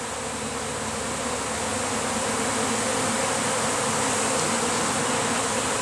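Dense, continuous buzzing of a honeybee swarm leaving a hive box, thousands of wings forming a loud, steady drone close by with no voices.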